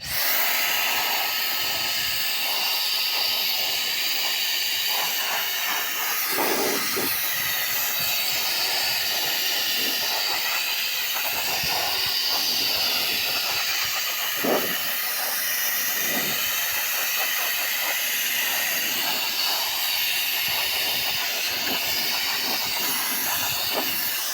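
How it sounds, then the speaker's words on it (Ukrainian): A Makita cordless bladeless turbo blower runs steadily, giving a loud, continuous airy hiss with a high fan whine that holds for the whole stretch, with no talking. "А просто продувач, зараз включу, покажу, як працює."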